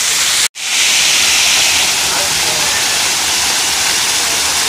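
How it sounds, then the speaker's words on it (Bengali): Water tumbles down from a height at Chikli Park in Rangpur, a loud, continuous rushing roar that fills the scene without letup after a brief cut near the start. "ওই উঁচু থেকে পানিগুলো গড়িয়ে গড়িয়ে নিচের দিকে পড়ছে"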